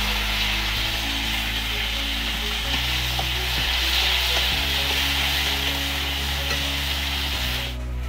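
Tomatoes frying in hot oil with panch phoron and curry leaves for an okra curry, giving a continuous close sizzle with soft scrapes and knocks of stirring and a steady low hum underneath.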